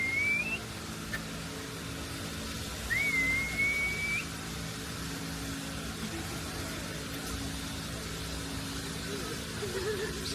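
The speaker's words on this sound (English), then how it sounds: "So somebody's whistling at the gorillas." A few short rising whistles from a person whistling at gorillas, carried over a steady outdoor hum of background noise at Disney's Animal Kingdom.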